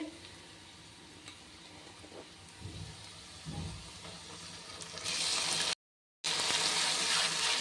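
Onion and spices frying in a pan, a soft steady sizzle with faint stirring scrapes, growing louder and brighter near the end after a brief silent gap.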